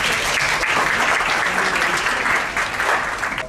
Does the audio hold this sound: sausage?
no